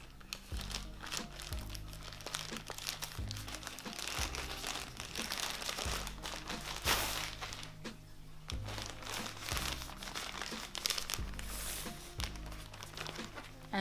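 Wrapping on the last of several mail-order parcels of Harry Potter goods crinkles and tears close by, in bursts of rustling and crunching plastic with a few soft thumps between.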